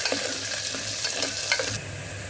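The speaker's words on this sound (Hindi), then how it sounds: "अब हम इसमें प्याज डाल रहे हैं और प्याज को हम ब्राउन होने तक," Chopped onions sizzle in hot oil with crackling cumin seeds in a pan, with steady close frying and occasional stirring scrapes while cooking a jackfruit sabzi.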